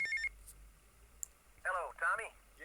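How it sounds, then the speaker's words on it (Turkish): Mobile phone ringing in GTA Vice City Anniversary Edition, a short electronic ringtone with repeated warbling chirps in the second half, fairly quiet against low background hum. "Aa telefon."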